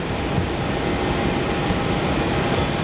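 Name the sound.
Virgin Australia Boeing 737-800 taking off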